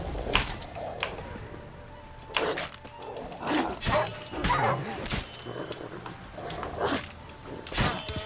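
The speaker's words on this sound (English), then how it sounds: "Why the dogs are so annoying is because they have a very rapid, like they attack rapidly and they deal a lot of damage" Dogs attacking in the video game Witcher 3, with a string of short barks, yelps and snarling bursts mixed with game impact thumps, rapid and fairly close, under a continuous game soundscape.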